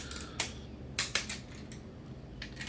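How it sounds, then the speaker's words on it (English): A torque wrench clicks as it tightens bolts on a Honda B20 VTEC engine during an all-motor rebuild, giving a few sharp, close clicks spaced irregularly over a quiet background. "On the torque wrench, we double check the click if it's all tightened good."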